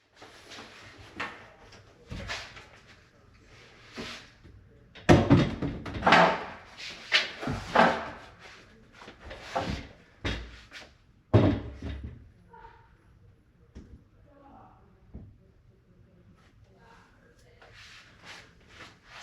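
A pocket door rolling along a newly installed replacement track inside the wall, giving rumbling slides, scrapes and sharp knocks in loud bursts through the middle, then quieter handling sounds, with no talking.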